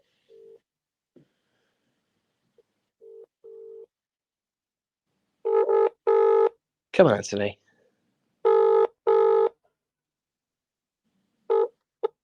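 Ringback tone on an outgoing phone call: steady paired electronic beeps repeating at intervals, with a brief spoken remark breaking in partway through.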